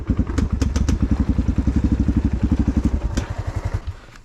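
A motorcycle engine close by gives off a rapid, even train of low thumps as it idles, with a few sharp clicks early on, and the beat slows and softens toward the end. No one speaks.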